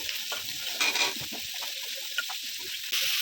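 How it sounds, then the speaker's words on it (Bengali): Pumpkin, jackfruit seeds, eggplant and potato fry in mustard oil with a steady, close sizzle, while occasional stirring scrapes rise briefly above the frying sound. "সবজিগুলো ভালো করে ভেজে নেব।"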